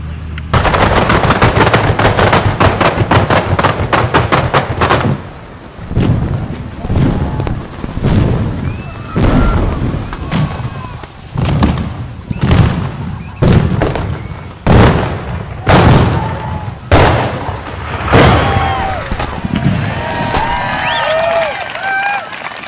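Paint cannons fire in a rapid volley of sharp explosive bursts on a commercial paint shoot, loud and close, the booms thinning to scattered single blasts amid rumbling echo.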